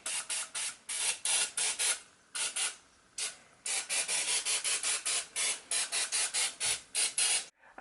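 Pam cooking spray hissing into a plaster mask mold, a long series of short, loud, close bursts in quick rhythmic pulses with a brief pause in the middle.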